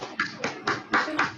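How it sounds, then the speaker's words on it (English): Applause closing an online talk session: a run of about five crisp, evenly spaced hand claps, close and moderately loud, with no talking over them. "Can we have a big round of applause for her?"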